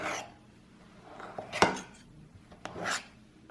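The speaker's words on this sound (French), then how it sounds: "je vais couper le beurre dans la farine comme ça" Butter is worked into flour in a bowl for tart pastry dough, giving quiet, intermittent scraping and cutting scrapes with a few sharper strokes against the bowl, close by and otherwise hushed.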